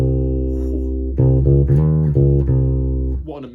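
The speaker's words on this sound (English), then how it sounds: "Can you just play for me a minor scale with a flat 2" A bass guitar plays a minor scale with a flat second, Phrygian mode, as a short sequence of clear distinct notes over a sustained low tone, alone and fairly loud.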